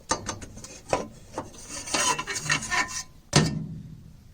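Metal shield plate being handled and pulled off an American Standard Ameristar furnace burner after its four screws are out, a series of close scraping, rattling and clanking knocks of varying loudness.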